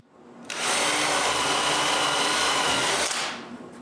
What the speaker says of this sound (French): je perce 4 trous